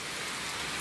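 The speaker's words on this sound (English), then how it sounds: "Look like it start to rain" Rain falls steadily during a stormy day, a brief, even, broadband hiss of drops on surfaces with no talk over it.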